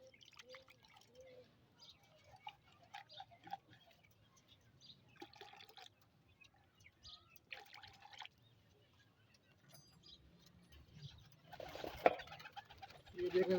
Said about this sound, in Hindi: अब माशाल्लाह सारे कबूतर पानी के लिए आ गए हैं।